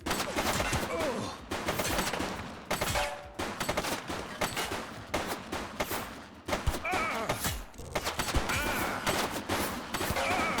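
Gunfire in The Precinct, a police video game: dense bursts of rapid shots crack repeatedly and loudly over a busy, noisy background, with brief pauses between the volleys.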